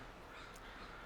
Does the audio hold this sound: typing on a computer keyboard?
no